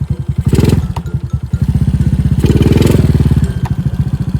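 Loud, throaty aftermarket exhaust on a 125cc motorcycle burbling close by, with rapid popping pulses and two sharp revs that rise and fall.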